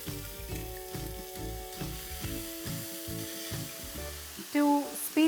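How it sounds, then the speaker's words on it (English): Finely chopped onions fry in hot oil in a cast iron pan, a soft steady sizzle sitting beneath louder tonal background music throughout. "I'm going to fry 3 finely chopped onions till they are nice,"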